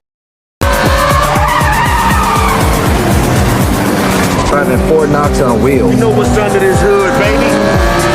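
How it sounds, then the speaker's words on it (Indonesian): Cars race through city streets in a chase scene set in Rome, with tires screeching and skidding repeatedly over loud, roaring engines, all close and intense. "Roman dan Han mengendarai mobil untuk mengejar target di jalanan"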